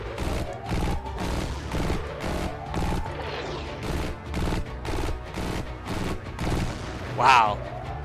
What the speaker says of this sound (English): Wow, dude, the new weapons sound pretty awesome.